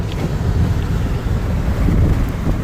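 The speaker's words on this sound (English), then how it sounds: "It's so windy." Strong wind in a snowstorm roars and buffets the microphone outdoors, a loud, continuous low rumble that swells and gusts throughout with no voices.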